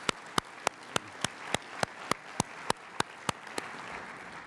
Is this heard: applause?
yes